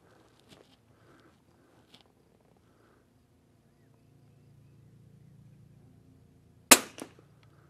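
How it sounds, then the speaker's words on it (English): A Savage rifle fires once after several quiet seconds, a single sharp, loud crack followed closely by a fainter second report. "So let's put 2 rounds down and see what it does."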